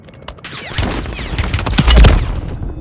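Call of Duty gunfire, a short rattling burst of shots building to a heavy thump near the end, loud and close, with no talk.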